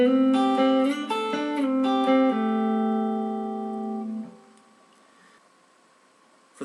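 Electric guitar playing the intro lick of a song: a run of quick plucked notes that settles into a sustained ringing chord, which fades out, with a short noise at the very end.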